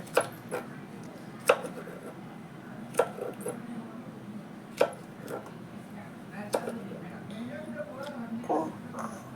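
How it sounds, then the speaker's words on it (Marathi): A child cuts okra with a knife on a board, sharp chopping taps spaced a second or two apart, close by, while people talk in the background throughout. "किती छान येते ना बाळाला भेंडी कापायला."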